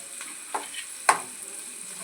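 Onions frying in oil in a pan, a steady soft sizzle hiss with a couple of light stirring clicks, close and quiet, with no voices.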